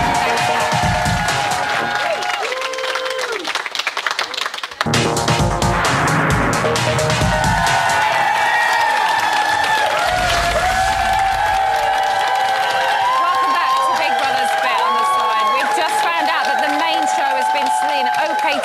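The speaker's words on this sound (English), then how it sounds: "give him a round of applause" A studio audience on a Big Brother UK spin-off show applauds and cheers loudly in a sustained wash, with music and talk running over it.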